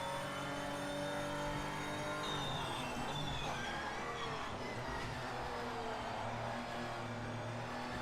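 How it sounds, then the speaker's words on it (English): Historic Porsche race car engine in a racing game, a steady harmonic drone with rising and falling pitch sweeps as the throttle is blipped through downshifts, continuous and fairly close with no voices. "blipping the throttle, going down the gears here"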